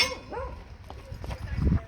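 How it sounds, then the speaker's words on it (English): A dog named Bear barks at people walking by, a few quick barks and yips at moderate distance, mixed with faint background sounds and some talking. "we got Bear barking at some people walking by"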